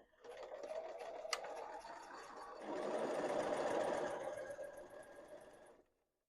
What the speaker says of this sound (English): We're just stitching this inside line.